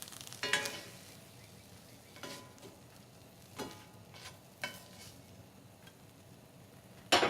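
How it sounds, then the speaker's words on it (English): Steak sears in a hot pan as a quiet, steady sizzle, broken by several sharp clinks and scrapes of a utensil against the pan, with a loud clatter at the end. "just cook and sear for just a minute"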